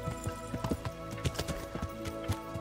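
Horse hooves clip-clop at an unhurried, uneven pace in the medieval game Kingdom Come: Deliverance, each step a clear, close knock over a steady low hum.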